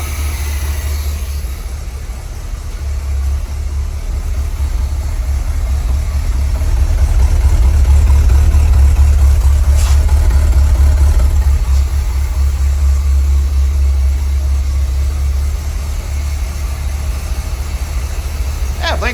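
A 1975 Chevy C3 Corvette, running again after sitting 15 years, idles close by in a loud, steady, deep rumble that swells slightly midway, with a person speaking over it.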